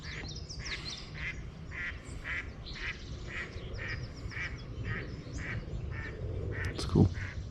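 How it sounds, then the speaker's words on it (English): Mallard ducks quack outdoors at a wetland, a steady series of about a dozen evenly spaced calls at moderate distance over a low wind rumble, ending with a brief louder sound. "There's a couple mallards flying right there."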